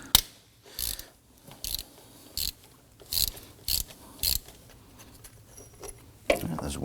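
Ratchet with a 10mm socket and extension loosening AC compressor bolts on a 2003-2014 Volvo XC90, giving a string of short, close clicking bursts in an uneven rhythm against a quiet background.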